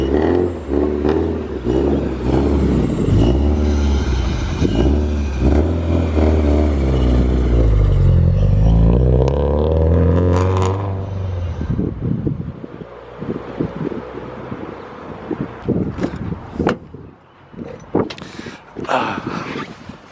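A modified Subaru WRX STI rumbles and revs loudly as it pulls away, its deep engine note rising and shifting before fading into wind noise and light clatter.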